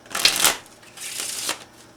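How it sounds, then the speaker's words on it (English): Playing cards riffle-shuffled quickly during an impromptu card trick, two short crisp bursts of fluttering card edges heard up close with no voices. "Maybe one really fast shuffle."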